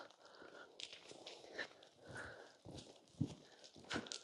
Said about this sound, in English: I'm just going to canter him a little bit longer on this side